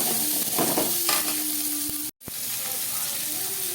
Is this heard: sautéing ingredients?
yes